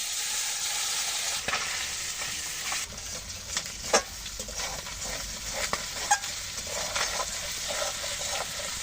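Small puti fish fry in plenty of hot oil with a steady bright sizzle, broken by occasional ladle scrapes and pops as they are turned, close and continuous, no one speaking.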